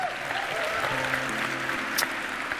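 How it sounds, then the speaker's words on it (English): Audience applause, a short burst of steady clapping from a crowd of moderate loudness, mixed with faint tonal sounds. "See, you did it again. You clapped for yourself."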